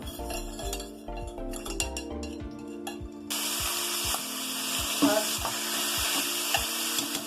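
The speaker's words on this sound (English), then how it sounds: "Heat the pan well, add clarified butter." Clarified butter heating in a hot pan for pumpkin halwa sizzles and crackles steadily from midway on, with a few light metallic clinks of a utensil.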